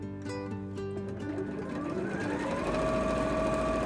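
A sewing machine stitches a placket onto the front opening of a winter skirt, running steadily and close with a continuous mechanical whir that climbs slightly in pitch as it goes.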